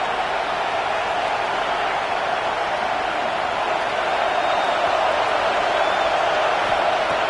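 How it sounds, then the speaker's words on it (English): Steady roar of a packed football stadium crowd, a dense, continuous wash of noise that holds at a loud, even level throughout. "listen to this crowd noise. This stadium is vibrating."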